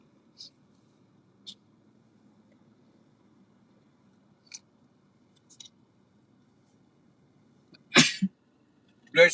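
A single loud sneeze bursts out near the end after several seconds of near silence broken by faint clicks, followed by another sharp noise.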